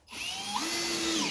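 A power drill drives wafer head screws, a loud close whine that starts abruptly, climbs, then shifts into a steady lower tone as the screw bites and seats.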